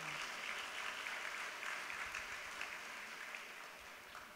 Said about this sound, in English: Y'all better clap for that.